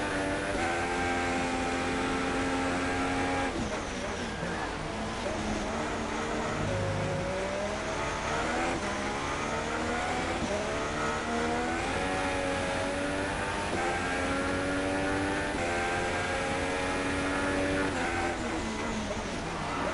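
An onboard race car laps a track in a racing video game, its engine droning loud and steady while the pitch climbs and drops through repeated upshifts and downshifts.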